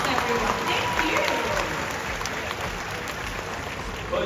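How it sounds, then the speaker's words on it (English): Sustained applause from an audience at a bird park, cheering a performing parrot named Quincy; dense, steady clapping carries at an even level from start to end with no break. "Can we give Quincy a round of applause, everyone?"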